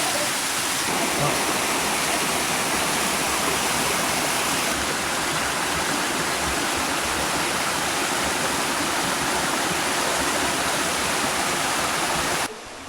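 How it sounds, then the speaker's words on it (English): A waterfall on a hiking path in northern Australia roars steadily and loudly, a dense continuous wash of falling water that holds unbroken for the whole stretch before cutting off abruptly near the end. "The path continues up the side of the waterfall."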